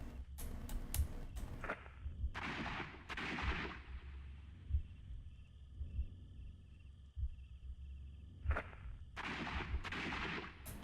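Gunshots in the Sherlock Holmes: Crimes & Punishments video game, a series of sharp loud bangs in short bursts with echoing tails, separated by quieter stretches of low background hum, no talk.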